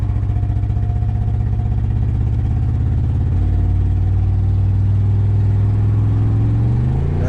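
A car engine pulls steadily under load through the gears after a used transmission install that has gone wrong, its loud, close drone stepping down at one shift and then climbing again, with no talk.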